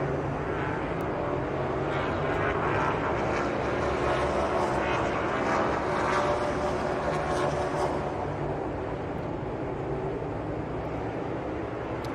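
NASCAR race car engines roaring at the Road America circuit during the Kwik Trip 250, a loud, continuous drone of several cars that swells and fades slightly as they pass, with no voices over it.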